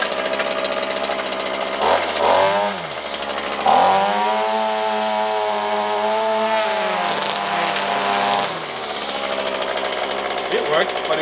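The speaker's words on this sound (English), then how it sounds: "Now we're testing the grass trimmer with the original plastic wire." Grass trimmer running with its original plastic line, a loud whining motor that revs in a short burst, then holds a sustained high-pitched run for several seconds before winding down, with brief voices around it.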